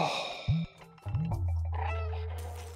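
A cat meows twice in the video game Stray, with short rising-falling cries close up, the second drawn out into a lower sustained tone that fades away.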